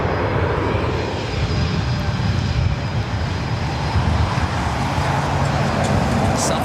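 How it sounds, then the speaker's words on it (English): A Delta Airbus A330 airliner at LAX gives a loud, continuous jet roar, dense and steady throughout, with faint traffic-like rumble beneath. "So as expected, the Delta A330 heading to the south side,"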